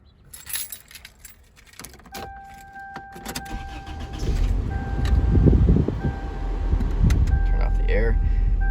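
A 1990s Toyota being started: keys jangle loudly up close, a starter cranks, and the engine catches and settles into a steady idle with a faint chime, while a person talks at points.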